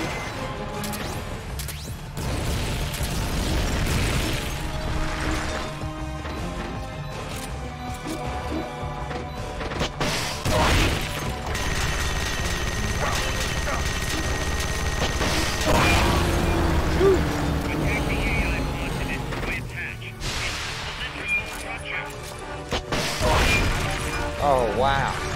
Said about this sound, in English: Takes two shots from a rocket launcher to get this one open.